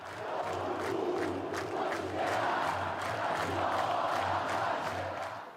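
Vasco da Gama supporters roar and chant together in a stadium ahead of a match at the Maracanã, a dense, steady crowd sound with rhythmic surges throughout.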